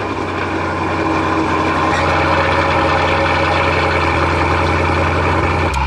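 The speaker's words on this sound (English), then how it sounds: "Let's do a proper cold start because the car has been sitting here all day." A supercharged 6.2-liter V8 in a Cadillac CT5-V Blackwing, sitting all day before a cold start, runs with a loud, close, steady high idle that fills the whole stretch.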